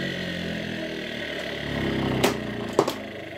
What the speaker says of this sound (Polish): wirnik obraca się w lewo i z większym momentem niż bez kondensatora